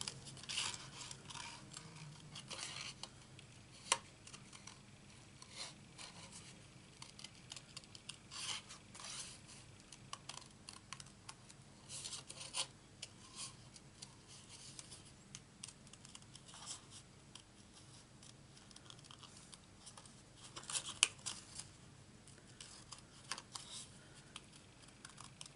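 Scissors snip through paper around a stamped image for a card, with steady small cuts and rustling handled close by, quiet throughout with no talking.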